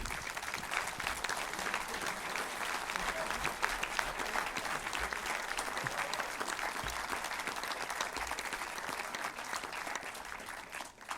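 An audience applauds a couple who own a cinema in Saint-Jean-de-Luz, sustained dense clapping at an even level from start to finish, with no talk over it.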